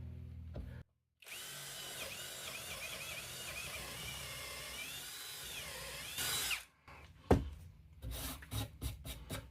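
A Makita DDF487 cordless drill bores with a 1/2 inch bit in one long continuous whine whose pitch sags and recovers under load, then cuts off, followed by a few short clicks and knocks.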